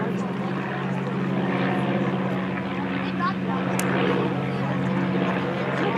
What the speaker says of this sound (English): one of these airplanes will peel off and leave the sky to his flying partner